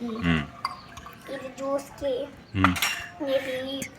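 Plates, pots and lids clatter and clink in a home kitchen during traditional wood-stove cooking, in short sharp bursts spread across the clip, with a person talking over and between the knocks.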